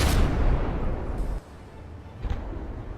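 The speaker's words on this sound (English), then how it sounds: "Initial cram barrage from the frigate manages to miss." Cram cannons fire a barrage from a frigate in the naval combat game From The Depths. A heavy booming blast opens the stretch, then sharper cannon reports follow at about one and two seconds, each with a fading rumble.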